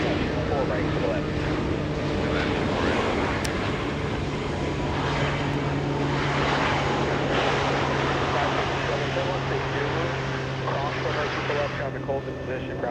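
A Boeing 757 jet at Los Angeles International Airport gives a loud, sustained engine roar and whine, with a voice talking over it throughout.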